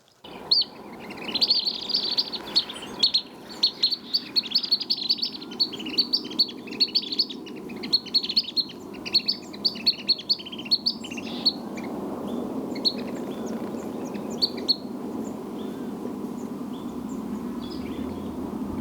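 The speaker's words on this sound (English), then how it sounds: "So we have mountain chickadee here." Mountain chickadee calling in a forest of desert mountains along the Pacific Crest Trail: repeated high, clear chirping notes in quick bursts over steady low background rumble, then fading after about twelve seconds.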